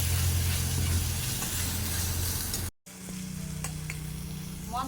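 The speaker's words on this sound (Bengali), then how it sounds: "মশলাটা ভালোভাবে কষিয়ে নেব" Turmeric and chili powder with spices sautéing in oil for a Bengali taroyal fish tel jhal, a dense hissing sizzle under a low hum, briefly cutting out then returning quieter with faint stirring.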